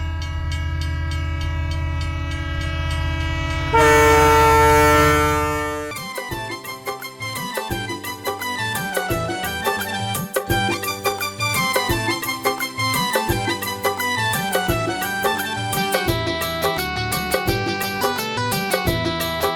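A train on a special pilgrimage rail journey: a loud sustained horn blast, then steady rhythmic clickety-clack of wheels over rail joints running on and on, close and continuous with no talk.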